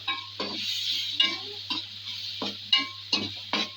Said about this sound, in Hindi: मसाले को सही तरह भून लूँ